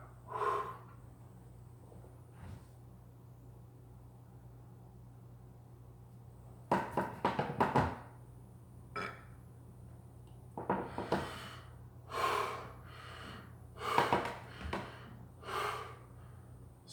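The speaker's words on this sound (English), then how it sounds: "So once you get the full exhale out" A person breathing out forcefully in a core-focused exercise: after a quiet stretch, a cluster of sharp, loud exhales and snorts arrives in bursts, each a short rushing puff with brief pauses between.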